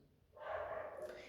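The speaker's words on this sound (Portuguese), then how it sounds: "desculpa o cachorro, tá?" A dog in an apartment lets out a single muffled, drawn-out bark, faint and somewhat distant, after a brief quiet moment.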